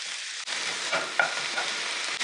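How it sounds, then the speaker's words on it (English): Onions and mint leaves frying in a pan for chicken pulao, a steady close sizzle with soft stirring scrapes breaking through it. "Now we'll cook this until the mint leaves wilts together."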